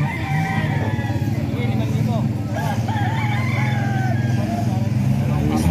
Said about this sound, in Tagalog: Ito mga manok pala ito ni Kuya Jeep mga kaidol.